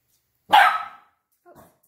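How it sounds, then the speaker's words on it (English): A dog barks once sharply and loudly indoors, followed by a fainter short second yelp after a pause. "Sorry, that was my dog."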